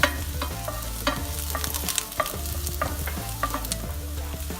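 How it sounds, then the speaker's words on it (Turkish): Onions and garlic fry in a pan while a utensil scrapes and stirs them, giving a steady sizzle broken by repeated clinks and scrapes, close and clear with no talk. "Soğanlarımızı biraz kavurduktan sonra içerisine sarımsaklarımızı da ekliyoruz"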